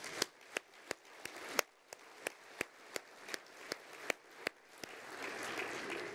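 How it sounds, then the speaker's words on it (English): A small audience at a port's annual address claps in a sparse, separate rhythm, a dozen sharp distinct claps spaced out over several seconds before a broader soft patter takes over near the end. "That deserves a round of applause."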